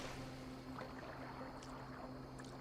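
A boat is rowed across water in the video game Assassin's Creed Valhalla, soft continuous wash and splash under a low steady hum, faint and even throughout.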